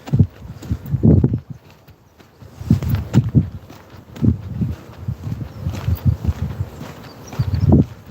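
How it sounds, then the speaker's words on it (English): Ponies moving about a field outdoors, soft low thuds of hooves and footfalls recurring irregularly at close range, with faint rustling between them and no talk. "Ponies out in the field today."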